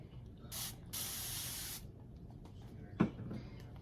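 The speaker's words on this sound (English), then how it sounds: "I'm gonna put like a spray or two of water in here." A spray bottle of water gives two quick hissing bursts, a short puff and then a longer one, close and fairly quiet in a calm room, followed by a small knock.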